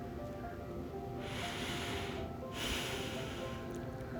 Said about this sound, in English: breathe in and out and notice your breath